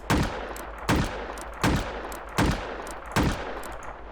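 A high caliber six-shot revolver in the game Rust fires five loud, evenly spaced shots about a second apart, each a sharp crack with a short booming tail, with no talk.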